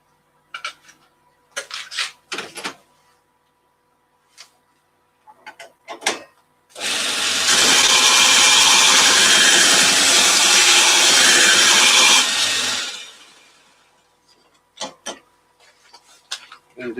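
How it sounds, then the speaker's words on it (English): A woodturning gouge held to a grinding wheel sends up a loud, steady rasping grind of about five seconds that rises sharply and then tapers off. Short clicks and knocks of handling come before and after it. "going to quickly give my gouge a sharpen."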